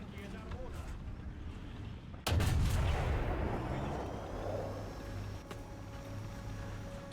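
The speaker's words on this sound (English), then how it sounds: "Artillery strike incoming." An artillery strike lands in a British tank battle game: a sudden loud blast about two seconds in, followed by a long rumbling decay with an engine drone underneath and some talk.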